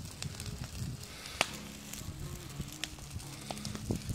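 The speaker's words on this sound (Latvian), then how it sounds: "Ugunskurs atvadās no mums. Ar mīlas dūmiem." A campfire in the woods crackles softly with scattered snaps and pops over a faint, steady hiss of burning.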